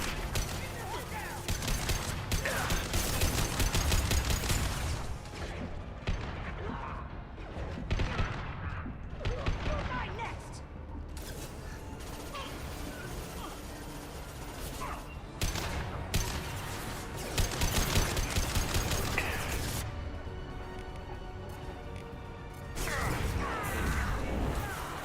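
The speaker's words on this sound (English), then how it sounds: "I don't know why you're using bloody SMGs at this distance" Rapid SMG gunfire in the video game Mass Effect 2 Legendary Edition, dense bursts and impacts crackling almost without pause through a busy firefight, with players talking over the shooting.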